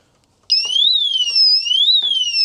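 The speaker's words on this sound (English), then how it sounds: "Well, it just set off the alarm." An anti-theft disc brake lock on a motorbike sets off its alarm, a loud, close, piercing electronic siren that sweeps up and down continuously after a silent start.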